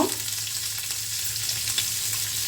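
Potatoes dusted with a little turmeric and salt being stirred in a hot pan over high flame, giving a steady close sizzle and frying hiss throughout with soft scraping from the stirring.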